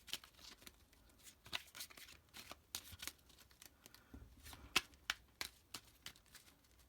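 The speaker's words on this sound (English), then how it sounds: "couple of overhand shuffles" A deck of playing cards is overhand shuffled by hand, giving a steady run of soft papery riffs and slaps, close up and with no talk.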